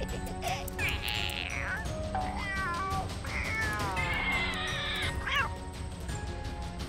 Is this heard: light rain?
no